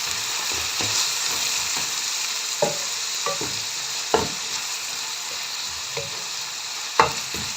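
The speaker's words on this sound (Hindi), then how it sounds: "अब यहाँ पर हम इसको भूनते रहेंगे ताकि हमारे टमाटर जो है वो अच्छे से घुल जाएं" Finely chopped tomatoes and green chillies frying in a pan for an egg dish, a steady sizzle broken by a series of irregular spoon scrapes and knocks against the pan; no speech.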